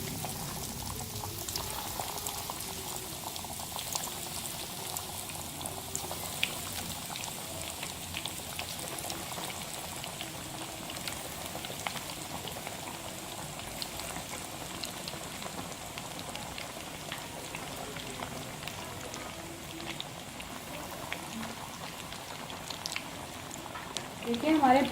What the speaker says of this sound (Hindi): देखिए हमारे पोटैटो चीज़ नगेट्स फ्राई हो रहे हैं